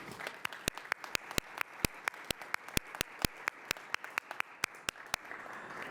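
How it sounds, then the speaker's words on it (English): Audience applause with many hands clapping steadily, sharp claps standing out over a dense wash of clapping, sustained throughout. "let's give everyone a round of applause"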